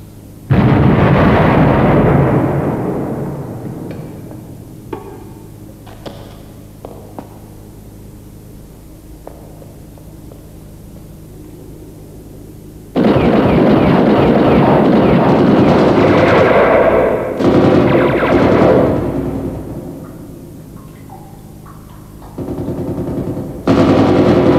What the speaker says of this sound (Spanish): ¿Quién disparan ahora?